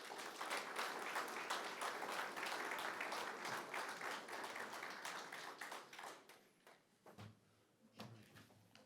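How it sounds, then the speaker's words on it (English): A large audience at a city State of the City event claps for the mayor, the applause full and steady at first and then thinning into scattered claps with a few knocks and shuffles near the end. "Let's give another round of applause for Mayor Schaefer."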